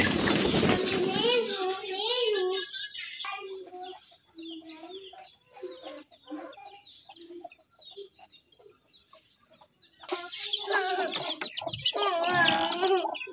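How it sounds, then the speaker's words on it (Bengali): A group of chickens eating paddy and rice and squabbling clucks and squawks close by, loud bursts at the start and end with quieter pecking clucks between, with some faint voices in the background. "মুরগিগুলোকে ছেড়ে আমি এখন মুরগিগুলোকে ধান আর ভাত দিয়েছি খেতে"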